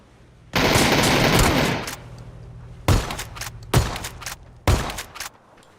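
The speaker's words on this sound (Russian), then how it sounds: "МК-12 откуда стреляет?" Gunfire from an MK-12 rifle in PUBG rings out as one long rapid volley followed by three separate loud bursts, each ending in a short echoing tail.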